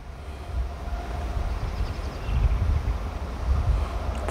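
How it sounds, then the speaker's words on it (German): Freight train rumbling past with a second locomotive hauled in tow, a loud low continuous roll of wagons with faint wheel squeal and wind buffeting the microphone. "Zweite Lok in Schlepp."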